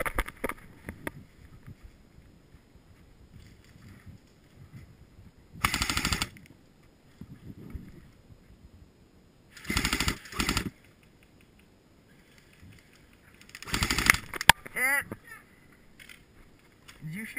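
Airsoft guns fire outdoors in three separate loud bursts of rapid shots, spaced several seconds apart, with quieter rustling and wind between them.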